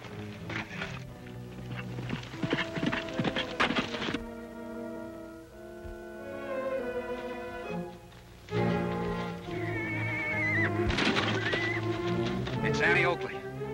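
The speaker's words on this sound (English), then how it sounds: "This horse is going to give out riding double." Horse ridden double in a western television series, neighing with hooves clip-clopping beneath music and talking voices, a loud whinny rising near the end.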